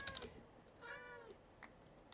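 Cats in a video game meow a few times, short clear electronic-sounding mews close up over a quiet background.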